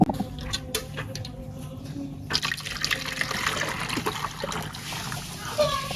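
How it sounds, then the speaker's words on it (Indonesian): Milk pudding mixture poured into containers, a steady close liquid pouring and splashing that grows fuller partway through, continuing throughout. "adonan susu tadi ini kita tuangkan ke masing-masing wadah"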